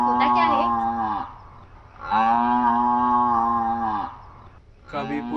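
A buffalo gives several long, loud, drawn-out moos with short gaps between them, close by and with no one talking.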